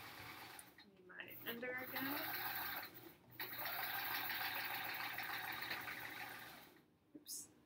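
A sewing machine stitches the second row of an hourglass block quilt, running in a steady close whir for a few seconds at a time with brief stops, faint overall.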